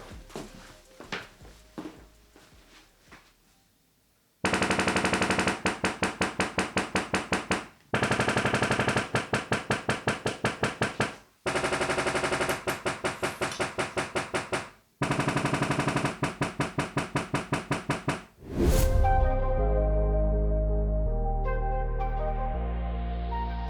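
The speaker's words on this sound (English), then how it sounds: "Let's do the sound calibration." Loud, sustained bursts of calibration test noise from a Sony HT-A9 speaker system in several blocks separated by brief gaps, followed by a swelling tonal sweep, with no voices.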